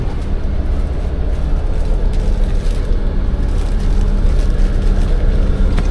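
A Damri cross-border coach running from Kuching to Pontianak sits at a stop with its engine running, giving a loud, constant low rumble and vibration that continues evenly with no talking over it.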